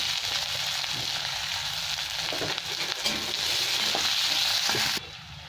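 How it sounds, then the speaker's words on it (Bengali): Sliced onion and nigella seeds fry in very hot oil in a pan for a Bengali potato-poppy-seed dish, giving a loud, steady, close sizzle with stirring scrapes, which drops off sharply near the end, and no talk. "একটু কালো জিরে দিয়ে দিলাম তেলের মধ্যে, তেলটা খুব গরম হয়ে গেছে। এবার একটু পেঁয়াজ কেটে রেখেছি, পেঁয়াজও দিয়ে দিলাম সাথে।"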